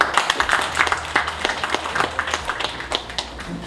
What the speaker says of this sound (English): Simon says, clap for my co-host